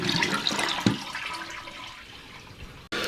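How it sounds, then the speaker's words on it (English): A toilet tank with a newly installed Korky universal repair kit flushes with a loud rushing surge of water that tapers into a softer draining swirl, then cuts off abruptly. "Let's see if we can get a good flush out of this."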